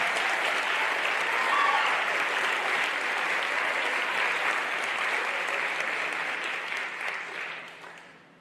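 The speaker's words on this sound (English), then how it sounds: "one more big round of applause for Levi" Applause for an award winner at a school awards ceremony, a dense, steady crowd clapping that holds for several seconds and then tapers off.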